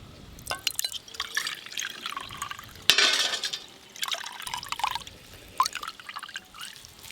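Freshly pressed coconut milk being strained by hand in a village kitchen, with irregular soft drips, trickles and splashes into a vessel, quiet and close.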